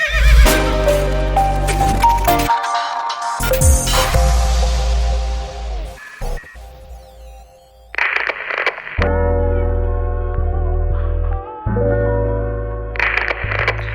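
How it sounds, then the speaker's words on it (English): A horse whinnies loudly several times over rhythmic clip-clopping hooves, with abrupt cuts between bursts and short silent gaps, sounding like an edited effects track. "There's some horse in this house"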